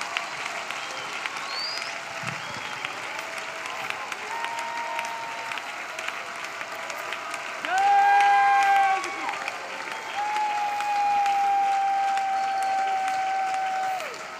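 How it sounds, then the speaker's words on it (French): Church congregation applauding and clapping for Jesus Christ during a prayer and intercession service, steady sustained applause from a crowd throughout with a few faint cheers and sung tones rising near the end. "Let us clap for Jesus Christ."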